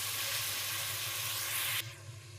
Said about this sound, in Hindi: थोड़ा सा इसको और फ्राई कर लेते हैं ताकि ये और भी नरम हो जाए